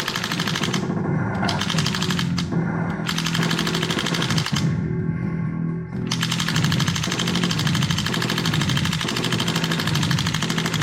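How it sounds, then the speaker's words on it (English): Rapid mechanical rattling bursts from an Arcade1Up Terminator 2: Judgment Day light gun, loud and continuous over electronic game sounds, with brief pauses between volleys. "The cool thing is the gun makes the rattling noise similar to what the original arcade"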